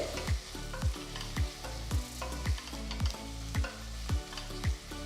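Thinly sliced onions fry with cloves, cardamom, star anise and bay leaf in a pressure cooker, a steady sizzle punctuated by regular rhythmic scrapes of a spoon about every half second, close and without talk.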